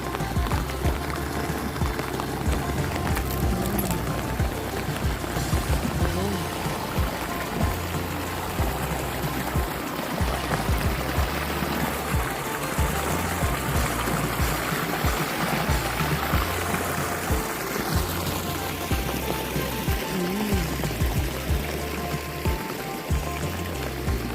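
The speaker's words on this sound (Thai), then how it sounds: "น้ำไหลแรงมากจริง" Rainwater flowing strongly, a continuous rushing, splashing stream of water that stays steady and fairly close throughout, with faint intermittent knocks and no clear speech.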